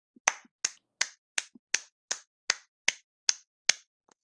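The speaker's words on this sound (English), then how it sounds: "Can we get like 12 claps for this?" Around eleven crisp hand claps land one after another in a steady, evenly spaced rhythm, close and loud against silence, with no voices.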